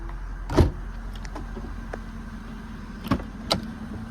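Power trunk lid on a 2010 Mercedes S550 that has sat unused a long time, giving a few short mechanical thumps and clicks against a steady low hum, with no talking.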